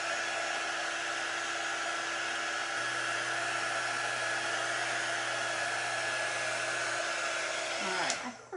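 A heat gun blows hot air to heat-set ink on fabric, giving a loud, steady hair-dryer-like roar that holds unchanged and then cuts off near the end.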